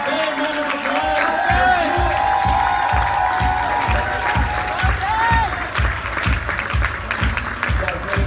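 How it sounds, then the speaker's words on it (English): Sustained round of applause and cheering from a live audience at a motivational speaking event, rhythmic clapping continuous and fairly loud throughout, with some crowd whoops and a host's voice over it. "Everyone give it up for Ben, round of applause."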